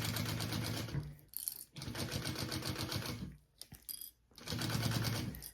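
Sewing machine basting piping onto a bag exterior with a 1/8 inch stitch, running in close, rapid bursts broken by two short pauses and a brief clatter.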